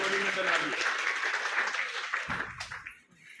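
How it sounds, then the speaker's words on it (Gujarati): An audience claps for a team at a Jamnagar cyber crime awareness programme, with a dense burst of applause that fades out after a couple of seconds. "આપણે ફરીથી એકવાર એમને તાળીઓથી વધાવીએ"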